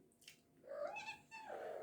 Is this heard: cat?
yes